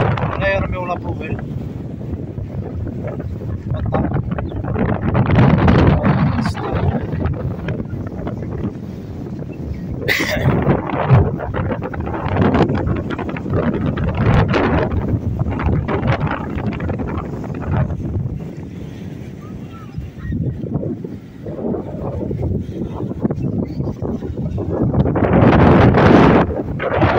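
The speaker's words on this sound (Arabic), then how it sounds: "يمكن الريح" Wind blows at Al Bayt stadium, a heavy, gusting roar buffeting the microphone, swelling and easing in waves for the whole span, loud and close.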